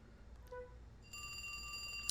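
A telephone rings in the video game Trauma Center: New Blood, a bright electronic trill that starts partway through and holds steady, heard alone at moderate level.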